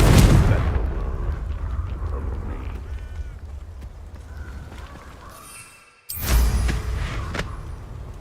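A Confringo spell blast in Hogwarts Legacy bursts with a heavy boom at the start, decays into a rumbling tail, then a second loud explosive burst erupts after a brief silent drop, with game voices mixed in.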